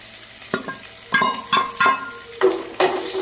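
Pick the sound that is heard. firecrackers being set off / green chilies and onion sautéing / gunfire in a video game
green chilies and onion sautéing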